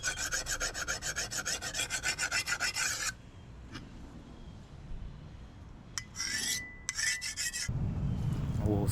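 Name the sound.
sharpening a cleaver knife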